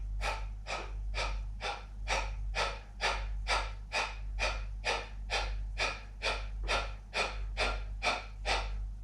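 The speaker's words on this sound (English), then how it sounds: "begin doing that sharp staccato exhale" Yoga breathing with sharp staccato exhales through the mouth, about eighteen quick forceful puffs in a steady even rhythm, close and fairly quiet over a low background hum.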